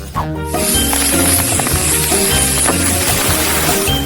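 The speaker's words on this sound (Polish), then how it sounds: "A żeby to szybciej zastygło, użyję sprayu do zamrażania." A can of freezing spray hisses steadily onto sweet syrup poured over Nerds candies, one long loud blast lasting several seconds over background music.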